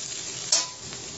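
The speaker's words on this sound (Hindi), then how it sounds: "थोड़ी सी हम कलर वाली मिर्च है, थोड़ा इसको डाल देते हैं और थोड़ी देर इसको और फ्राई कर लेते हैं" Potatoes fry with salt and red chili powder in an oil-filled pan, giving a steady close sizzle with one brief stir or scrape partway through, and no voices.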